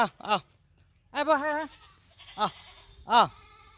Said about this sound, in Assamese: এই ছাগলীকেইটা পানী খাই